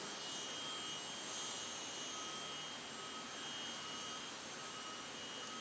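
The turbine engine of a super modified pulling tractor whines in a steady, broadband roar with a high tonal hiss, heard alone at a fairly low level from some distance.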